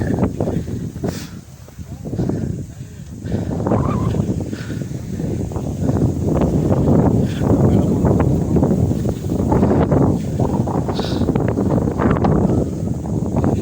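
Steady wind gusting across an outdoor mic on a hill trek, a constant broadband rush that swells and holds loud throughout, with faint rustling.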